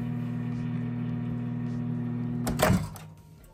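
A microwave oven cooking hilsa fish with aubergine in yoghurt hums steadily at close range, then a sharp clunk and rattle near the end as the running drone stops and fades.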